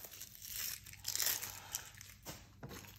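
Papery onion skin being pulled off by hand during kitchen prep, a few soft close crinkling and tearing rustles with one louder crackle in the middle.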